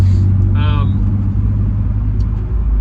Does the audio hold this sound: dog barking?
no